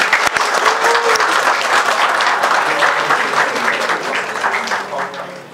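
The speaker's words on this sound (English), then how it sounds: "Let's welcome everyone with a huge round of applause." Sustained applause from a sizable audience at a youth leadership discussion event, loud and steady, with clapping that fades slightly toward the end.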